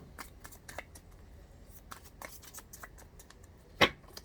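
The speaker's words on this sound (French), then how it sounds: "Encore 2 cartes et ensuite je retourne mes cartes" Tarot cards being handled and turned over: soft, quiet flicks and slides of card stock in scattered bursts, ending with one sharper snap of a card near the close, no talk.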